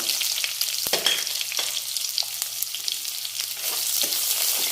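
Chopped onions sizzling steadily in a hot pan, a constant bright crackle with a few soft stirring scrapes, close and alone with no voices.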